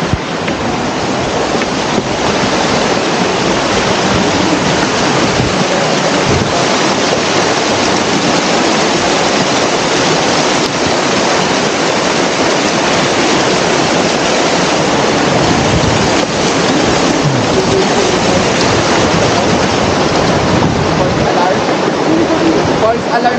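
Water from the supply at Bomod-ok Falls in Sagada rushes loudly and continuously, a dense, steady roar close by that persists throughout while people talk over it.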